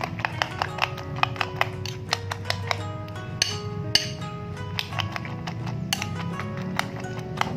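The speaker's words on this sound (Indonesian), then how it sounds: "kita kocok dulu telurnya ya" Eggs being beaten in a bowl for a green-bean omelette, with a rapid, irregular run of light clinks and taps from the utensil against the dish, close and steady throughout with no talking.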